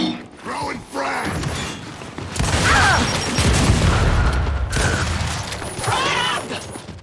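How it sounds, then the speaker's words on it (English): A frag grenade is thrown and explodes during a Gears 5 King of the Hill multiplayer match, with a loud booming blast and rumbling debris under shouted in-game voice callouts, followed by mechanical clatter and more bursts. "Throwing frag!"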